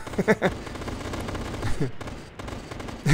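Automatic rifle bursts in a survival shooter, rapid sharp reports clustered early and again midway, heard under someone talking and game ambience.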